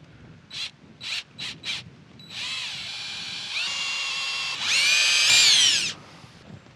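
A drill fitted with a 3/16 inch bit bores holes in a trailer boarding step, with a few short bursts first and then three longer, steady whines that rise in pitch and loudness, close and alone without talk.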